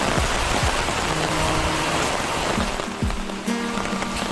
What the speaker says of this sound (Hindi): यहाँ भी बारिश की झड़ी लगी तो माहौल ठंडा ठंडा कूल हो गया